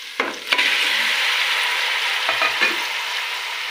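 Mutton pieces fry with garlic and ginger in hot oil, giving a loud, steady sizzle. A few scrapes of stirring in the pan come through, and no one talks.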